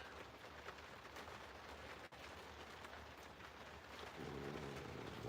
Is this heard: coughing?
no